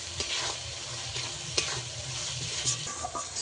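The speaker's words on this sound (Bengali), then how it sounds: "যতক্ষণ না কাঁচা গন্ধ যায় ততক্ষণ আমি মশলাটাকে ভালো করে কষিয়ে নেব" A fresh ground spice paste fries in oil in a pan for a rustic fish curry, a thick continuous sizzle with frequent stirring scrapes, close and steady without any voices.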